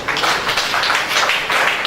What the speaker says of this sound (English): Women in the house, clap for yourselves.